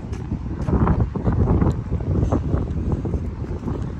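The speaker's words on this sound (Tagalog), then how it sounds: "Hangin pala talaga kaya ayaw lumabas" Strong wind blowing outdoors in the UK, a continuous loud rumbling gust buffeting the microphone for the full few seconds, with no speech over it.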